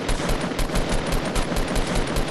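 Rapid automatic gunfire from Fortnite Battle Royale in a 50 vs 50 match. The shots come in a loud, dense, evenly spaced burst that runs without a break through the whole stretch.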